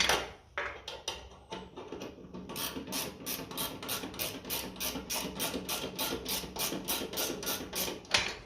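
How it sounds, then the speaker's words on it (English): A ratchet spanner tightens the tappets on a 1957 Ferguson FE35 TVO tractor. A few scattered clicks give way to a fast, even run of ratcheting clicks, close and distinct, with no one speaking. "on with our ratchet spanner"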